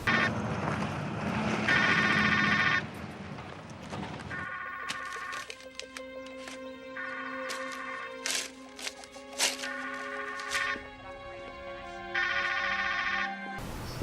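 A phone rings in repeated bright electronic bursts, first over a loud whooshing swell and then in evenly spaced rings mixed with scattered clatter and thumps, with no voices.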